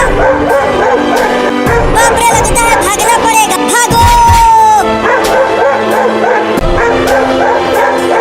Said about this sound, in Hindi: अरे ये कुत्ता तो यहाँ तक पहुँच गया।